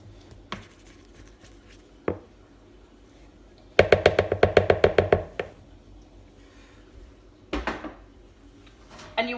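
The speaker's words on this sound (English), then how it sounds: "I'm going to just give the sides of my bowl a quick scrape" A spatula scrapes the sides of a mixing bowl of crescent roll dough in a fast run of about a dozen sharp clacking strokes, with a few scattered knocks before and after in a quiet kitchen.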